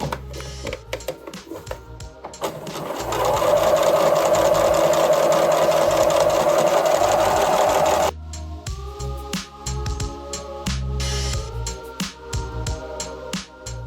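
A sewing machine runs steadily, stitching an elastic casing opening shut, with a loud continuous whirring burst of about five seconds set among shorter clicks and stop-start handling noises.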